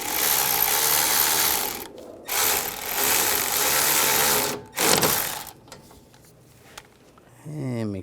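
A ratchet tightens a bolt on the AC condenser of a 2013-2016 Dodge Dart 2.4L four-cylinder. Several close, rapid clicking strokes come in bursts separated by short pauses.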